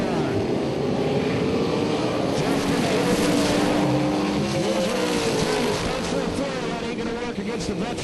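Drag race cars roar down the strip at a pro dragstrip event, a loud continuous engine wail with tire noise throughout, an announcer's voice partly audible over the racket.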